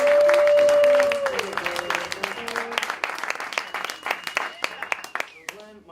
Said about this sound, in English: Can we give a big round of applause for Glenn Childress